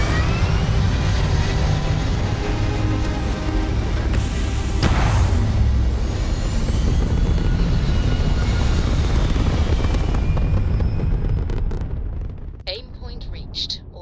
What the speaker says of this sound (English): Thrust is firing.